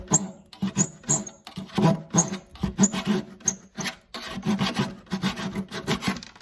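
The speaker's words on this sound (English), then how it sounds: "So you can totally do this with a hand saw" Rhythmic rasping strokes of a small hand saw cutting wood, close and steady, each back-and-forth pass with brief pauses between.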